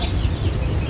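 Pet broodcock roosters and chickens cluck in a brief, close, busy burst of fowl calls over steady background noise.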